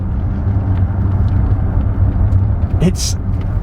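Kia EV6 GT electric car under light acceleration, a steady low road rumble and faint drivetrain hum inside the cabin, with a brief sharper chime-like sound near the end and voices present.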